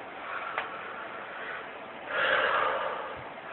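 A person in a martial arts gym takes a long inhale during a breathing exercise, a soft airy breath that swells and fades, heard up close with no talk over it.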